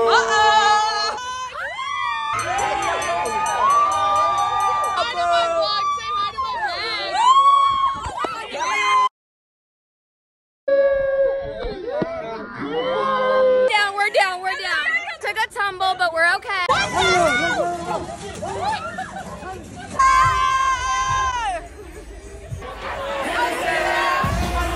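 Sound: spring break crowd cheering in Cabo

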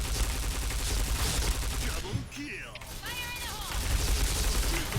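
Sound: P90 gunfire in a video game

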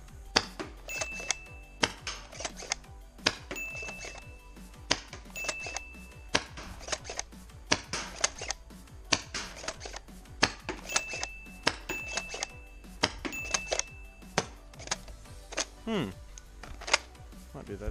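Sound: HPA blaster shots hitting a box target

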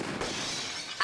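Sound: glass shattering from gunshot in Tomb Raider Chronicles video game

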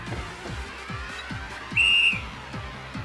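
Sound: whistling in video game Zanki Zero

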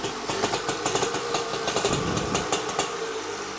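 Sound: Yamaha V75 motorcycle engine idling

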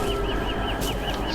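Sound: bird sound from the video game Don't Starve

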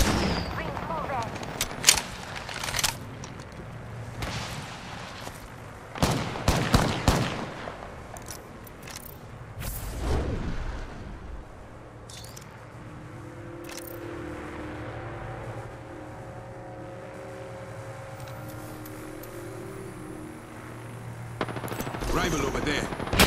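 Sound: gunfire in video game Apex Legends

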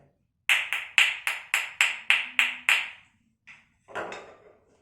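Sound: wooden spoons being struck

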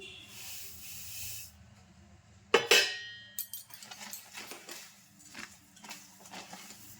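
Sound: sesame seeds stirred into melted jaggery

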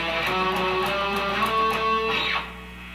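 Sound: electric guitar playing a guitar solo double-stop lick

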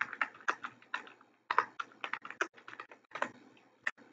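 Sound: computer keyboard keys pressed, Ctrl+E in Excel

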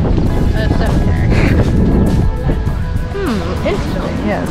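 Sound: strong wind

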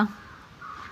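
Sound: crow cawing

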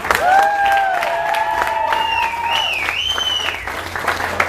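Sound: crowd applause

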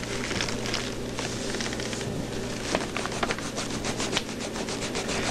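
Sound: rare vintage green eraser rubbing on paper

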